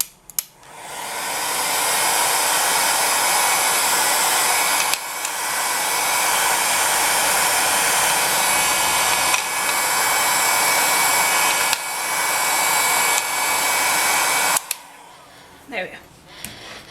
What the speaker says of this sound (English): the best way to get it dry as possible is to either use a hairdryer or a heat gun